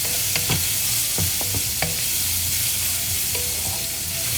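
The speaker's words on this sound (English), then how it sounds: "Let's add the onions and saute this a little bit more for about 1 minute." Onions saute in oil in a pan with spices for tiffin sambar, giving a loud, continuous sizzle up close, broken by a few clicks and scrapes of a stirring utensil.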